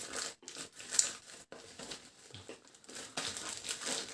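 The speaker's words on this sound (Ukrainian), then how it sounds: "Давайте приступимо до розпакування." Plastic packaging of a sealed parcel crinkles and rustles up close in short bursts during unpacking, with brief pauses between handlings; no one speaks.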